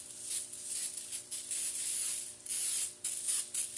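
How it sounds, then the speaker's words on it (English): A Lysol aerosol disinfectant can sprays in a series of hissing bursts, close by, with short breaks between the sprays and no talking. "I got some Lysol spray here."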